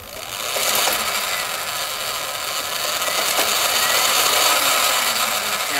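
A Sur Ron Light Bee electric bike runs with missing teeth on its primary drive belt, giving a steady, close, raspy grinding whir that builds slightly as power increases. No voices.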